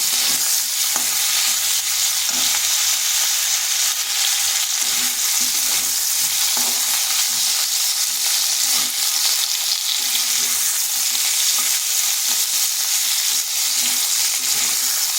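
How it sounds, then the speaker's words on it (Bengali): Potatoes and plantain pieces fry in hot oil with a strong, continuous crackling sizzle that stays even and close throughout, with no voices. "ওই তেলের মধ্যে দিয়ে দিলাম আলু আর কলাগুলো এরপর এগুলোকে ভেজে নেব"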